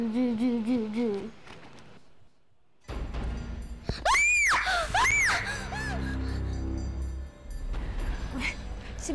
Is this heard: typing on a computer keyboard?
no